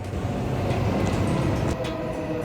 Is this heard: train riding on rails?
yes